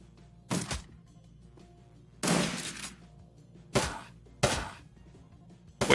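A gun turret in Shadowrun: Dragonfall fires four separate short bursts with quiet gaps between them, each a sharp crackling volley, and a fifth burst starts right at the end.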